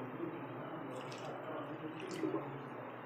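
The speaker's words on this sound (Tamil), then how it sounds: "ஒன்றரை கப் தண்ணி ஊற்றிக்கோங்க" Water is poured into a pan on a stove for a sugar syrup, making a steady, soft splashing stream with light dripping that runs the whole time.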